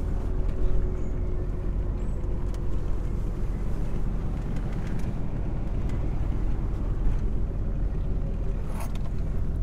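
A Mk1 Polo GTI with a Fox 2.0 16V engine on individual throttle bodies revs steadily from inside the car, a deep, continuous rumble that holds loud and even for the whole stretch with no talking.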